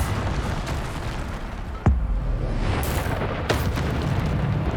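Bombarda explosion spell in Hogwarts Legacy gameplay, a sharp booming blast followed by a second burst, set against rumbling combat noise and game effects.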